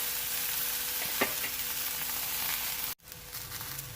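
Okra with salt, crushed red chilies and green chilies frying in a pan, a steady close sizzle with faint stirring clicks, cut by a brief gap near the end before the sizzle resumes.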